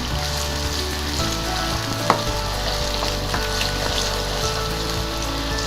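Nargisi kofta fry in a pan until light golden, giving a steady close sizzle with soft crackles and a small clink partway through.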